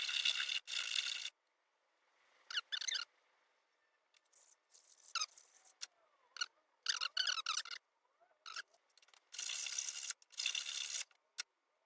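Sandpaper rubs down a homemade part for a Halloween pumpkin, coming as short, scratchy bursts of squeaking friction separated by brief quiet gaps, close and fairly crisp.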